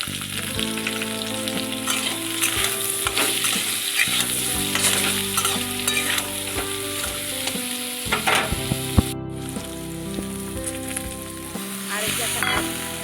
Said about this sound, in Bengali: আর পোস্ত দু চামচ মতো দিলাম আবারও একটু নেড়ে নিতে হবে